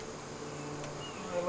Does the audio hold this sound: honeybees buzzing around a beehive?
yes